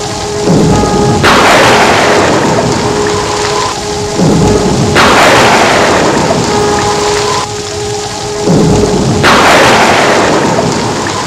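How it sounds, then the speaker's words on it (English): Heavy rain pours steadily while loud thunder rumbles and cracks roughly every four seconds, three booming peaks rising over the constant downpour. "It was raining heavily on that night."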